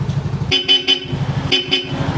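A Bosch Europa horn fitted to a Yamaha Lexi 155 scooter honks in two bursts of three short, loud toots each over a low idling engine, close by.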